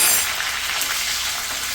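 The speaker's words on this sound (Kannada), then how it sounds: "ಇದೆಲ್ಲ ಸ್ವಲ್ಪ ಫ್ರೈ ಮಾಡ್ಕೊಳ್ಳೋಣ." Green chillies, curry leaves and ginger frying in hot ghee for kara ghee pongal give off a steady, close, dense sizzle that stays even for a couple of seconds, with no voices.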